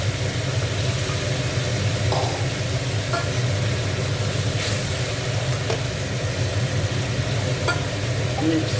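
A paste of ginger, cumin, coriander, chili powder and turmeric fries in a pan for a fish curry, with a steady low sizzle and a few light stirring scrapes over a constant background hum.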